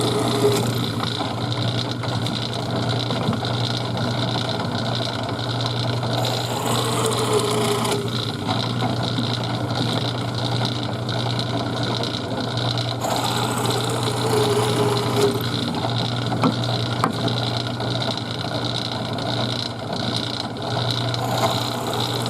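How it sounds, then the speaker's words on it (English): A drill press bores five holes in a custom turkey call, its motor humming steadily throughout while two brief bursts of higher-pitched cutting noise mark the bit biting into the workpiece. "And then of course we come to the drill press here."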